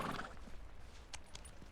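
A horse in the snowy setting of the video game Pentiment gives a quiet, brief whinny amid soft clip-clop hoofbeats and low background ambience, with no talk.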